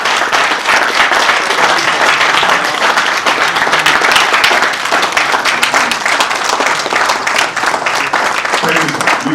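An audience applauds at a celebration of CG Adewale Bashir Adeniyi's appointment, a dense, sustained round of clapping with crowd noise throughout and voices faintly mixed in.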